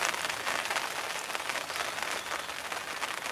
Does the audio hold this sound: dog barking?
no